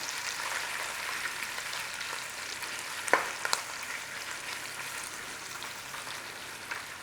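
Corned beef curry frying in a steel pan gives a steady close sizzle throughout, with a couple of brief clinks of a utensil stirring near the middle.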